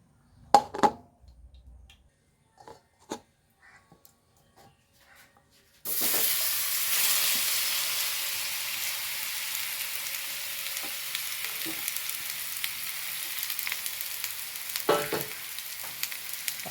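Banana pieces drop into a hot pan and burst into a loud, close sizzle that keeps going steadily, with occasional stirring clicks, after several seconds of quiet handling knocks.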